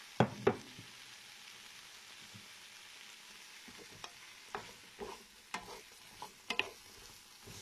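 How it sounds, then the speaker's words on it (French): Vegetables frying in hot oil over medium-high heat for a baby meal, stirred with a utensil: a faint, steady sizzle broken by scattered clicks and scrapes, with a few sharper taps toward the end. "je vais mélanger le tout et je vais laisser cuire sur feu moyen à fort"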